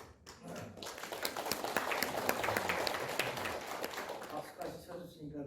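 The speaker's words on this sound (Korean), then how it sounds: "박수까지 쳐주시니까" Scattered, fairly faint audience clapping with sharp individual claps at a Korean National Assembly forum on abolishing lawmakers' privileges, heard alongside talking.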